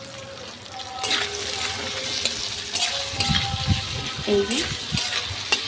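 Chicken sizzles and is stirred in a pan for Bengali chicken kosha, the frying swelling louder midway with scraping stirs, and a short spoken remark over it.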